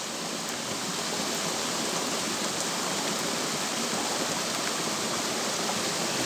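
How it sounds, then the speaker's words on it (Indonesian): Rain falls steadily during an outdoor fishing trip with waders, a dense, even hiss of drops that continues unbroken and fairly loud throughout, with no talking. "Hujan."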